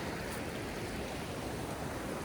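Water pouring over flat rock at Dainthlen waterfall near Cherrapunji, a steady, close, broadband rush with no pauses or voices.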